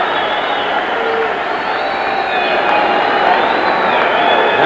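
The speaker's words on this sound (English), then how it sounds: "Now you begin to hear the crowd." Crowd at a boxing arena for the Ali versus Young fight of 1976 keeps up a dense, steady roar of cheering that swells slightly toward the end, with no one speaking over it.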